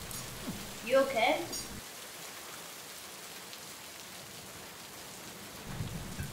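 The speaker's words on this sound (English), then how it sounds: "Yeah, it's just rain." Rain falling steadily, with a brief louder burst early on that may be thunder, then a soft continuous patter; a voice is faintly present.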